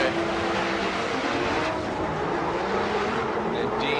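A high-horsepower 2JZ drift car engine roars during a Formula Drift battle in Seattle, a loud sustained drone under crowd noise and an announcer's commentary.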